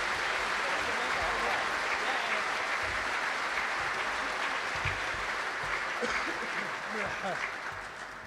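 A crowd at the 2013 Isle of Man TT press launch applauds and cheers, dense continuous clapping throughout that thins slightly toward the end, with some voices and a spoken word faintly mixed in.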